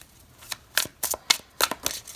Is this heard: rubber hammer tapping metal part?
no